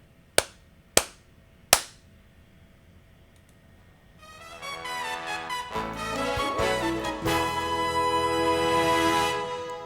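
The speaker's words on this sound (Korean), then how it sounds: "박수 3번만 칠게요" Three sharp hand claps, evenly spaced and close, each ringing briefly in a quiet room, followed by music swelling in at a moderate level.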